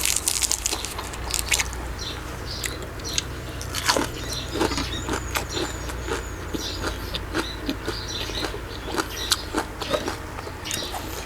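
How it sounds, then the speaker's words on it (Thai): Crunchy food bitten and chewed close to the mic in a Thai meal of beef curry with papaya salad and sticky rice, a rapid irregular run of sharp crisp crunches over a low background hum. "กรุบกรุบกรอบกรอบ"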